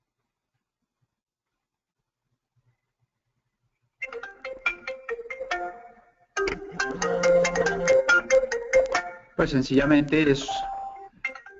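A melodic phone ringtone plays in repeated bursts, bright and chiming, with short gaps between phrases; a voice speaks briefly near the end.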